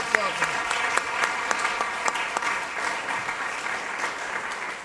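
Applause from a concert audience at a Latin jazz show, with dense steady clapping for several seconds, fairly close and continuous, with a few brief voices mixed in.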